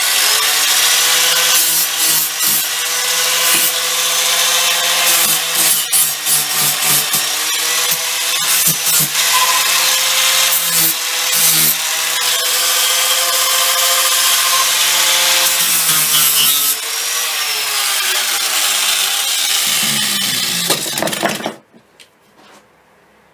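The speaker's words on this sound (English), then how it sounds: "I'll do a bit more polishing and sanding with the relatively fine grit flat disc." A power carving tool with a fine grit flat disc sands a wooden sculpture, a loud, close, continuous abrasive whir with rubbing pulses as the disc shifts across the wood, ending abruptly as the tool stops.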